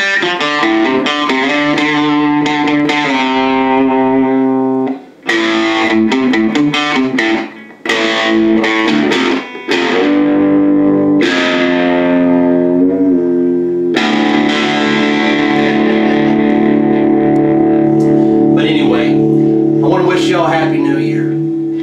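Electric guitar played through a distorted suitcase amplifier, gritty overdriven chords and single notes ringing with short pauses between phrases, loud and close with no talking.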